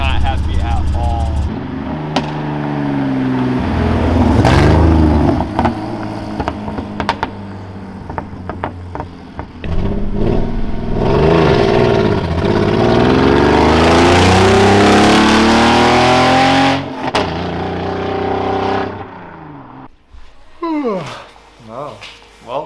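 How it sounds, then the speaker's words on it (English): A tuned BMW E46 car engine revs hard and loudly in long strained pulls with a struggling, uneven roar and sudden cutoffs, heard close with voices talking over parts of it. "It did not move, but it was very loud. The car went nowhere and it was struggling."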